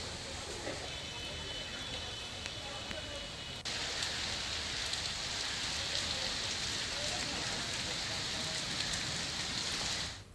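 Heavy rain pours in a storm with strong winds in Bihar, India, a dense continuous hiss of drops on surfaces that grows slightly louder partway through, steady and enveloping.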